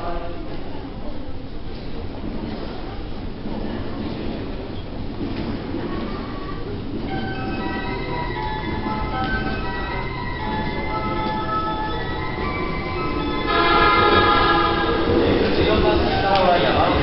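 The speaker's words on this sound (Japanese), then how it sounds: "13番線にまもなく電車が到着いたします。" A commuter train rumbles into platform 13 of a Japanese station, its steady roar building and growing louder toward the end, with a tonal hum and Japanese announcements over it.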